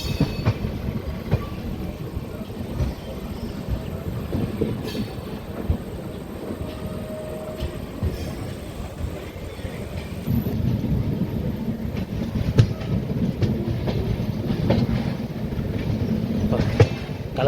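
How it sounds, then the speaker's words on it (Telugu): The Lingampally Intercity Express on the Vijayawada to Secunderabad run rumbles steadily while taking a long curve, with wheels clacking over rail joints and occasional faint squeals, the noise swelling slightly partway through. "ఇప్పుడు మన ట్రైన్ ఒక పెద్ద టర్నింగ్ అయితే కొడుతుందండి."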